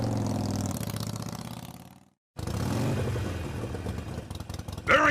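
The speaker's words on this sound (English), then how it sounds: "how about a Reaper riding his motorcycle?" Motorcycle engine sound from a Home Depot 2017 Halloween grim reaper prop riding a motorcycle: a steady rumbling idle that cuts out briefly, then resumes with revving and clattering.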